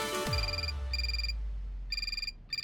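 A telephone rings indoors, electronic trilling bursts in a repeating pattern after a deep thud at the start, fairly close and clear with no voices over it.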